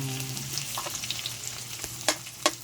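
Dried fish (tuyo) sautés in a pan, giving a steady low sizzle with soft stirring scrapes and a couple of sharp spattering crackles near the end.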